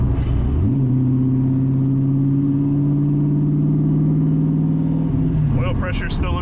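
A Ford Ranger fitted with a 331 engine idles steadily at close range, a smooth, even rumble with faint rising whine, holding constant for several seconds before a brief clatter of other noise at the end.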